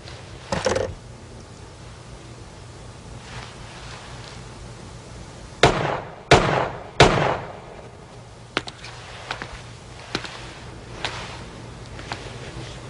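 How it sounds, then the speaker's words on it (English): Gunfire in a movie shootout, a handful of sharp, loud shots spaced unevenly, including a quick burst of three in a row, followed by a scatter of fainter cracks against quiet background. "Nice shooting, boss."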